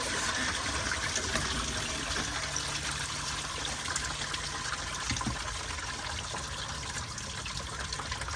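Coolant draining out of a 2002 Ford Mustang GT engine, a steady close trickle and splash of liquid running continuously without a break.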